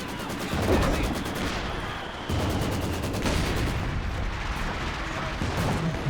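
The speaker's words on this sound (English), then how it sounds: "ISG is going to open up on the Maxim" ISG infantry gun shelling a Maxim in a Company of Heroes 2 match: repeated booming blasts and rattling gunfire, loud and dense throughout.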